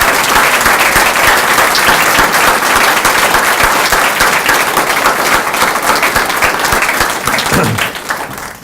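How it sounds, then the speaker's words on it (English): Sustained round of applause from a crowd at a government event where a governor reappoints a major general, loud and dense clapping throughout before fading slightly at the end. "Let's give him another round of applause."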